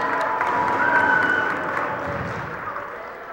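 Home crowd at a Waterbury Career Academy high school basketball game against Oxford cheers and claps in a gym, a sustained roar of applause and whoops that eases off slightly toward the end.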